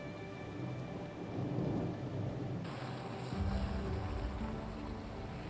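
Steady, heavy rain hisses throughout in Meghalaya, India, and a deep roll of thunder rumbles in partway through and lingers. No voices.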